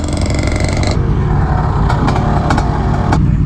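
Ducati Scrambler motorcycle engine roaring continuously at close range during a track day, a loud rumbling drone that drops in pitch after the first second, with a few brief clicking bursts on top.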